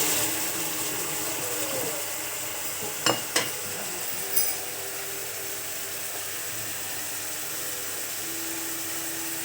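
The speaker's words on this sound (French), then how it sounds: "on va venir mettre les 60 g d'eau restantes sur le caramel" Water poured onto hot caramel in a pan over low heat, a steady hissing sizzle with a couple of sharp clinks and bubbling bursts early on, close and without talk.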